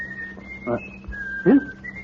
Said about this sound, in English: that somebody whistling?